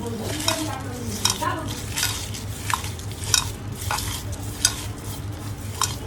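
Potatoes being mashed and mixed for aloo bhorta with mustard oil in a bowl, a steady run of soft squelching, stirring and rhythmic scraping clicks, close and moderately loud, with no talk.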